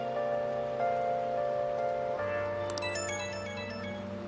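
A melodic phone ringtone chimes from a Persona 5 video game, a steady tonal pattern repeating clearly over a soft rainy ambient backdrop, with a brighter sparkling flourish partway through.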